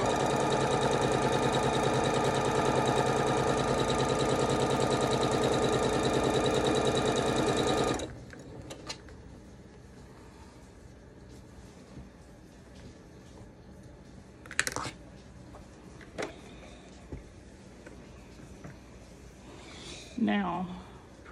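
A sewing machine stitches quilt star points for a block, running in one loud, steady continuous burst for several seconds, then stopping, followed by quiet handling clicks and small bumps.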